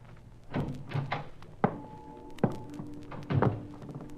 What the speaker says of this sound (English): I banged against the steel drum, and the noise it made shattered the silence